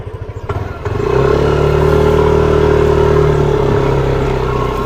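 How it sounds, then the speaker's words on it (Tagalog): Motorcycle riding along a rough rural road, the engine revving up after a brief clattering start, then holding a loud, steady drone close by. "Subok na tong motor, oh."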